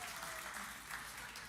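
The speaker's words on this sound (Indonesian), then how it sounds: "Kita beri tepuk tangan." A crowd at a church gathering claps steadily in a dense, continuous burst of applause that fills the room for the whole moment.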